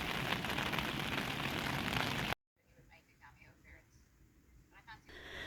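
Steady dense rain hisses loudly on and around a parked van by the waves at Presqu'ile Provincial Park, then cuts off abruptly to a quieter interior with a faint patter and voices speaking.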